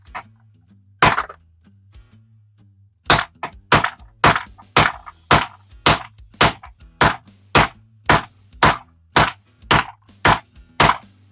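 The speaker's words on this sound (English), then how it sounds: "Now let me just get the hammer to hammer that in. Give it a couple whacks just to knock it in place." A hammer taps a 3/4 socket to seat a lawnmower primer bulb retaining ring, one early sharp knock, a pause, then a fast run of about fifteen close, crisp metallic strikes in a steady rhythm.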